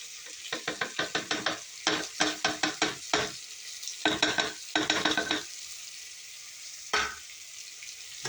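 Green chillies, chilli powder, turmeric, mint and coriander are sautéed for cooker dum biryani, with quick rhythmic bursts of sizzling and stirring scrapes in clusters, pausing between strokes, close up and with no talk.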